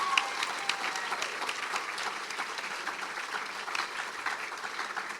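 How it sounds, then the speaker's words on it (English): Steady, dense applause from a pageant audience at the 2024 Miss Dale Fall Festival queen pageant, a continuous wash of many hands clapping at moderate level with no voices on top. "please give another round of applause to all of our contestants"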